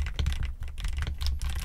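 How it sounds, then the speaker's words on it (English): Rapid typing on a Sonic-themed merchandise computer keyboard, a quick run of soft, close clicks and key thumps in an uneven rhythm with brief pauses, no talking. "Next up, the sound. This is me typing."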